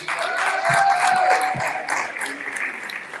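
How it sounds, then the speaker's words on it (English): A convention room full of people applauding steadily, a dense wash of clapping that swells then gradually fades, with a voice cutting in briefly. "We want to clap it up again for Miss Donnie Adrian."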